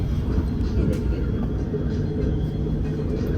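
A Kuala Lumpur metro train hums and rumbles in a steady, loud low drone from inside the carriage, with a murmur of voices beneath it.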